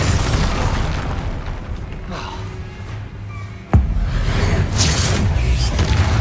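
A Confringo spell exploding in the Hogwarts Legacy video game, a loud booming blast with a sharp burst near the middle over continuous rumbling game noise, with a voice heard as well.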